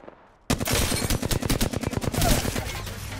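Rapid automatic gunfire in Apex Legends, a loud sustained burst of closely spaced shots that breaks in suddenly and runs for nearly three seconds.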